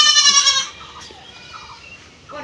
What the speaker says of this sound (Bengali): মামার বাড়ি থেকে ছাগল নিয়ে চলে এসছে।